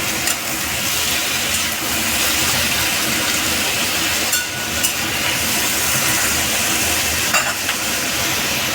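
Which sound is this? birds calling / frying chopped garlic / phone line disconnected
frying chopped garlic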